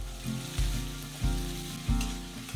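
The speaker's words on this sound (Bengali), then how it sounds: "তারপরে আঁচটা একটু বাড়িয়ে কোচানো পেঁয়াজ দিয়ে ভেজে নেব।" Sliced onion fries in hot oil with whole garam masala spices, a loud close sizzle that surges with each of several rhythmic stirs.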